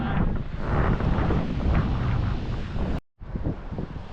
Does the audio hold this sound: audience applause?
no